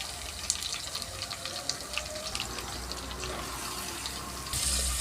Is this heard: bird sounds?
no